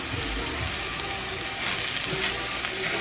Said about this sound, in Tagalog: Tinotoast ko muna yung quinoa.